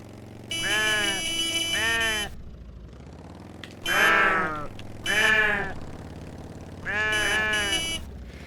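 Sheep in a farming video game give four loud, drawn-out wavering bleats, one or two calls each, separated by short quiet gaps.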